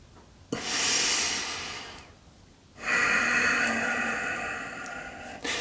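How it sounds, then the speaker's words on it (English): Slow breathing in and out through the nose during a meditation exercise: two long, airy, close-up breaths, each rising sharply and tapering off, with a short quiet pause between them. "So we're only breathing in and out through the nose."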